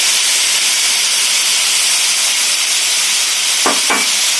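Steady hiss of vegetables frying in a pan for Manchow soup as carrots join tomatoes and capsicum, a broad even sizzle with two brief knocks near the end.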